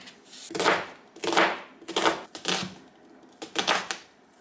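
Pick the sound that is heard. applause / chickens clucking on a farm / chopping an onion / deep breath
chopping an onion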